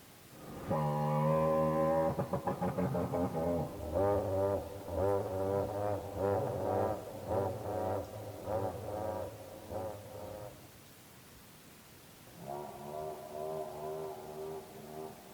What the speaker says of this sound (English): this is the most up-to-date sound of a Tyrannosaurus Rex.